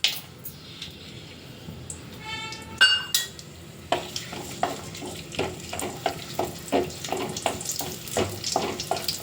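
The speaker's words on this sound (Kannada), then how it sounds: "ಇದನ್ನು ಹುರಿಬೇಕು ಸ್ವಲ್ಪ ತುಪ್ಪದಲ್ಲಿ ಹುರಿತಾ ತುಪ್ಪದಲ್ಲಿ ಹುರಿತಾ ಇದ್ದೇನೆ" Cashews, pistachios, almonds and raisins frying in ghee for a papaya halwa, a soft sizzle broken by a run of rhythmic scraping stirs against the pan, with a short clatter before the stirring starts.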